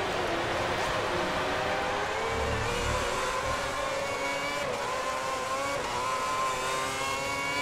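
A Ferrari F10 Formula One car revs at Melbourne in the F1 2010 racing game, its high-pitched engine wailing steadily and loud, with pitch rising and dipping across the run and no voices.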